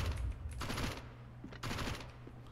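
Two rapid bursts of automatic gunfire, each about half a second long, crackling at moderate distance with a low background hum.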